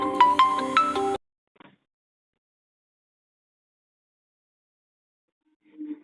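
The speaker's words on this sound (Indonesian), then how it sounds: "Nah ternyata ada telepon masuk," A phone ringtone for an incoming call plays a short, bright melodic burst for about a second and then cuts off, followed by near silence with a couple of faint small sounds.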